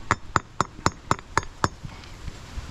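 Hammer blows on an 1 7/16 socket driving a trailer wheel bearing race into its hub: seven crisp, evenly spaced metallic strikes in quick succession, close and ringing, then softer faint taps.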